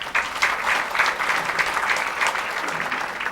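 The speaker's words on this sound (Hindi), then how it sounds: "ताली तो बजाओ।" Audience in a spiritual gathering bursts into steady, continuous applause, many hands clapping at close range and filling the whole moment without a break.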